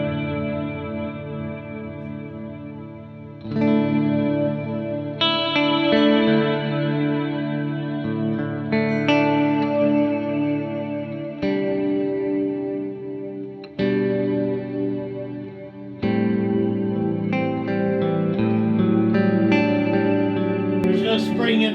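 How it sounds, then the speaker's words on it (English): Electric guitar played through a worship pedal board with delay switched off and only reverb engaged: strummed chords ring out in bursts, each wash of reverb trailing and blooming between attacks, loud and sustained with no talking over it. "let's turn our delay off for a second, and let's just hear this reverb."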